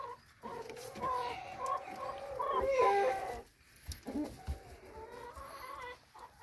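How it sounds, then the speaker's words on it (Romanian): Chickens and a rooster of the New Hampshire breed cluck on a farm, with scattered low clucks and rooster-like calls over a faint, busy farmyard background, moderately distant and soft. "Cocoșul de New Hampshire, găini de New Hampshire, rața."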